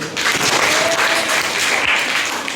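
Students break into applause in a classroom during an Earth globe activity, a dense, sustained burst of many hands clapping at once, loud and even from start to finish.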